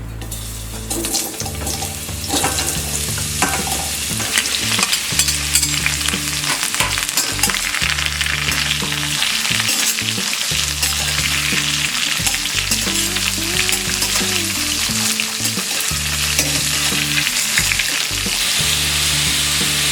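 Pumpkin fries with fenugreek seeds in a pan, a loud, close, continuous sizzle with rhythmic stirring and scraping strokes throughout and no talking.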